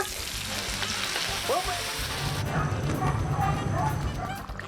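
Ginger and garlic sautéing in a hot pan, a dense continuous sizzle with stirring scrapes, briefly interrupted by a short high-pitched squeak before the frying hiss swells louder and steady; faint speech underneath.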